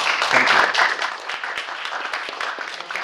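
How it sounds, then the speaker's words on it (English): A lecture-hall audience claps for a guest lecturer on engineering careers, the applause fairly full at first, then thinning into scattered, fading claps. "give a round of applause."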